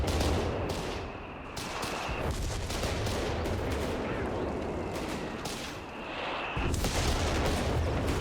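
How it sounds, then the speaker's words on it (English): Heavy base howitzer artillery pounds a battlefield in Company of Heroes 3, dense rolling booms and gunfire layered into a continuous loud barrage, briefly easing before another sharp burst near the end. "Base howitzer completely annihilates the weapon."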